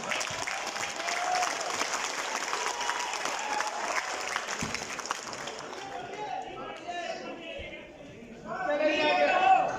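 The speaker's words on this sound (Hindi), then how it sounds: "मैं आपके लिए ताली बजाना चाहता हूँ" Audience applause at a poetry recital event in Dubai, steady dense clapping that fills the space, thinning briefly near the end before swelling again with crowd noise.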